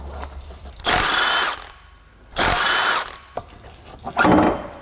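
Three loud bursts of power-tool whirring on a 14 mm bolt under a 2003 Honda Pilot during powertrain removal, each lasting under a second, close and harsh.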